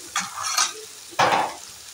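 Garlic paste and fish paste stir-fried in a pan for a taro leaf dish, giving two loud scraping, sizzling bursts of spatula strokes close by, with a quieter fry between them.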